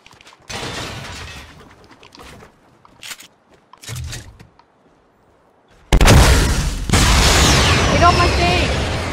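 A guided missile explodes in the Fortnite battle royale game, a loud sudden blast that roars on for several seconds after scattered quieter bursts and an excited voice talking earlier.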